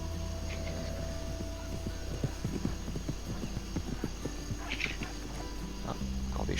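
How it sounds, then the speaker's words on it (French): Horses clip-clop across the ground in the video game Red Dead Redemption, a steady patter of hoofbeats over a low constant drone, with a brief whinny-like call among them. "Ah, encore des chevaux."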